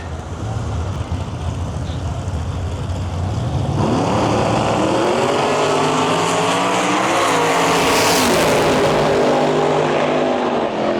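A Corvette drag racing car roars down the strip at a small-tire drag race, its engine note climbing loud and harsh over constant crowd and track noise, with the pitch sweeping upward in the second half.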